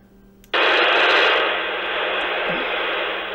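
A Yaesu FT-65 handheld radio opens with an abrupt burst of loud, broadband static hiss after a brief quiet moment, then holds a steady, slightly lower rush of noise to the end.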